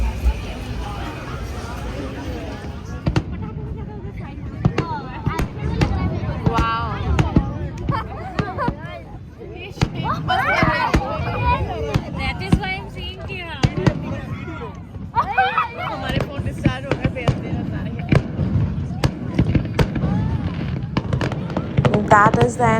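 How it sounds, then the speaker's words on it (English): Canada Day fireworks show over Lake Ontario, with repeated booms and crackling bursts at varying distances and an irregular rhythm, heard beneath the constant chatter of a large crowd. "we are heading towards the Lake Ontario again for the main attraction of the Canada Day, which is none other than the fireworks show"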